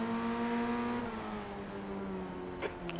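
A Ray Formula 1600 race car engine in a sim racing game at a standing start, running as a steady droning tone that shifts pitch as it climbs, with a brief sharp burst near the end.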